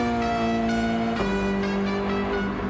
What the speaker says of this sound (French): Il y a la Porsche qui revient fort derrière.